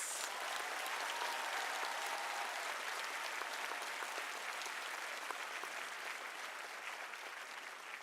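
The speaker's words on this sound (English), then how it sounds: "Let us congratulate them by giving them a hand of applause." A large audience applauds PhD graduates at a University of South Africa autumn graduation ceremony, with dense, continuous clapping holding steady at full strength for several seconds.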